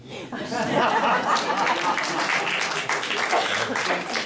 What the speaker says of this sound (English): Y'all can applaud